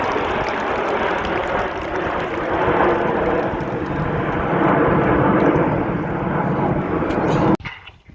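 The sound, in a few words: Red Arrows display jets flying at an air show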